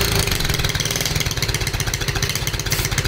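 Honda Z50R mini bike engine running roughly at a steady idle, close and loud, its low irregular chug sputtering unevenly throughout.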